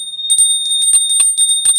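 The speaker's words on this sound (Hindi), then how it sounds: "और ये लेकर आई हूँ घंटी" A large, heavy metal bell bought for Diwali, rung close and loud in a quick irregular series of bright strikes over a sustained ringing tone.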